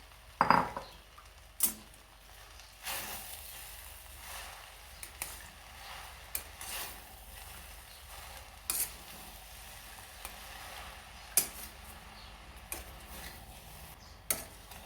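Jaggery syrup being stirred in a pan for gulamba, with soft scraping strokes and a light simmer, punctuated by several sharp utensil clinks against the metal rim, fairly quiet and close.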